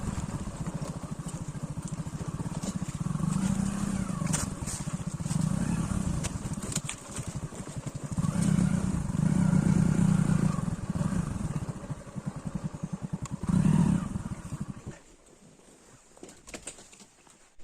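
A motorbike engine idles and revs nearby while being brought to a stop for parking at Machakandana Waterfall in Similipal, with rough low rumbling swells for about fifteen seconds before it cuts off, leaving quiet outdoor ambience.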